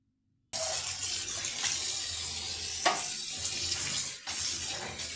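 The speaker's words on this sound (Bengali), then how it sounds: "এভাবে শাককে খুব ভালোভাবে ধুয়ে নিতে হবে 2 থেকে 3 বার।" Punka greens are rinsed under a running kitchen tap, a steady close rush of water splashing into a sink with a few brief surges and one short break near the end, no voices present.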